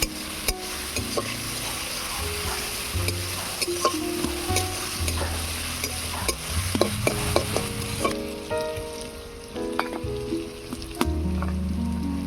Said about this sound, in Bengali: পেঁয়াজ রসুনটাকে লাল লাল করে ভেজে নেব।